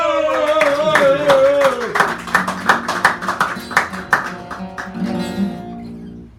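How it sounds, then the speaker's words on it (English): A poetry hour audience at Sacred Grounds Cafe in San Francisco claps in a run of distinct, closely spaced hand claps. The clapping comes after a voice and is followed by sustained tones and faint murmuring. "Give him a round of applause."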